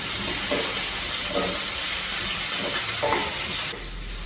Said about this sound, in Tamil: இந்த பூண்டு வெங்காயம் இது கொஞ்சம் வதங்கணும்